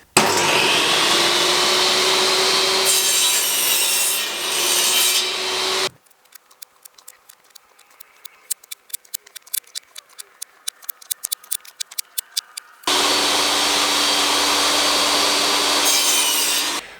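Wood blocks for shelves are cut with a loud, close power saw in two long whining bursts, separated by a quieter stretch of rapid rasping strokes and scraping; no one speaks.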